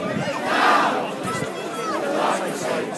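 A crowd shouts and jeers at a royal flotilla demonstration on 3 June 2012, with raised voices swelling loudly twice over a steady babble of open-air noise.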